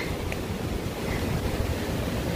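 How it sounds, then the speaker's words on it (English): Heavy rain pours outdoors along a rural road in bad weather, a loud, constant hiss of broadband noise with a gusty, roaring quality and no pause throughout. "It's raining and pouring."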